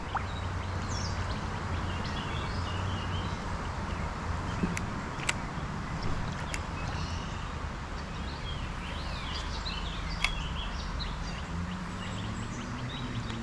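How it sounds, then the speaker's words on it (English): Birds chirp and call faintly beside a creek in a woodland preserve, scattered short calls over a steady wash of flowing water and soft rustling. "You can hear the birds"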